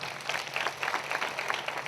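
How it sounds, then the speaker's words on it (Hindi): Applause from the congregation at a prayer meeting, a steady patter of clapping held at moderate level with no voices over it. "जोरदार ताली बजाइए परमेश्वर की।"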